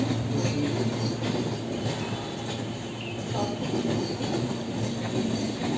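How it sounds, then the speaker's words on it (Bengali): A train rolls past close by, a steady loud rumble of railcars and wheels on track with faint clatter and squeal throughout, no voices over it. "এখান থেকে যাচ্ছে এখন ট্রেন"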